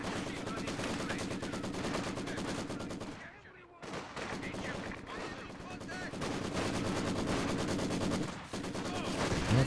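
A Maxim heavy machine gun in a video game fires long, sustained rapid-fire bursts of evenly spaced shots, loud and close, broken by one short pause before resuming steadily to the end.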